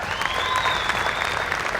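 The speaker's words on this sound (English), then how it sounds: "let's have a big round of applause for Mackenzie Brown" Steady audience applause in an indoor archery arena at a tournament finals as an archer is introduced, a continuous wash of clapping with a faint tone running over it.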